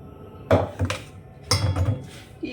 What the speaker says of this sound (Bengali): এইবার দেখো দুটো একসাথে মেশাবো